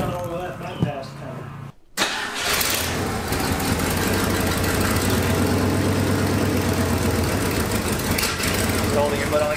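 A 1974 Ford F-250 Highboy engine idles with a steady, continuous low rumble close by after a brief cutout. People talk over it throughout.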